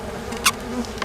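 Honey bees in a weak, struggling colony give off a thin, uneven buzz, with one brief close buzzing pass standing out over a quiet hum.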